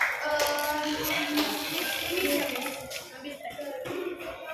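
Brief, fairly soft clapping from a group of students in a classroom for a team, mixed with children's voices talking over it.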